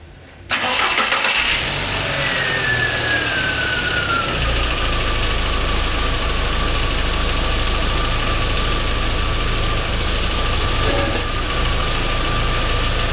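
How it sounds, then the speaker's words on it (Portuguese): A car engine cranks and catches after a brief quiet moment, then settles into a steady, even idle that holds loud and close, with a faint whine sliding down early on. "Eu acabo de dar partida no carro."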